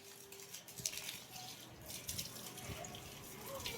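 Water running and splashing outdoors while a Royal Enfield Bullet motorcycle is washed, a steady wet hiss with occasional drips and spatters, moderately faint, with no talking.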